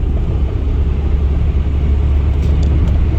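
Inside a Peugeot 205 on the move, a loud low engine drone and road rumble fill the cabin steadily, with no talk over it.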